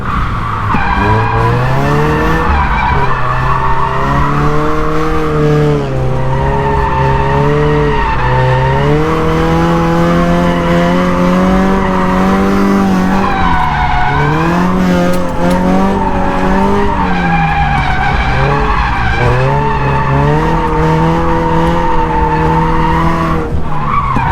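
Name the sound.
Scion FR-S car drifting with skidding tires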